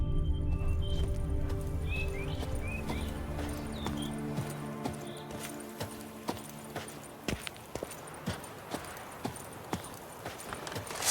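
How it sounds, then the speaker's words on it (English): A horse-drawn merchant's wagon with wide, heavy wheels in the video game The Witcher 3 rolls along to a steady clip-clop of hooves over a low rumble, with faint chirping in the background. "A merchant's wagon."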